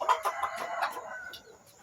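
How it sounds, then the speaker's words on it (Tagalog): Native Bisaya chickens cluck close by in a rural province yard, with a few quick sharp clucks at the start that fade into softer calls. "Native, Bisayang manok."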